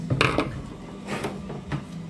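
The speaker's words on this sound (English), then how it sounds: "it's just the last tightening of this last screw" Final screw being tightened on a guitar wall mount, a few close mechanical creaks and ratcheting turns in short bursts with pauses between, no talk.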